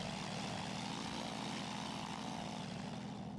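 Propeller aircraft engine in a VR flight simulator game, a steady continuous drone with a pulsing low hum, heard alone at an even level with no talking.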